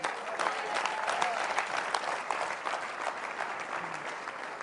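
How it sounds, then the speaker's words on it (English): Audience applause in a large hall, a dense continuous clapping that stays strong and even throughout, with no voices over it. "Clap loud."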